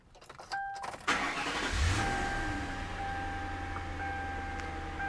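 A 2002 Ford Crown Victoria LX Sport is started with the key: a short cranking whir catches into a loud, close engine start, then settles into a steady low idle.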